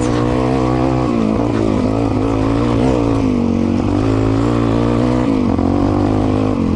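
Suzuki DRZ 400 E dirt bike engine pulling through the gears while racing, a steady loud motor drone with rising and falling pitch as it revs and shifts, no talk over it.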